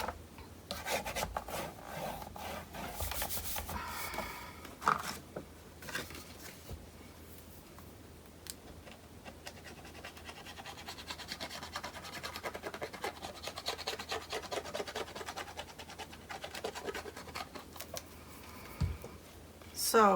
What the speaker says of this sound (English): And I can burnish this down.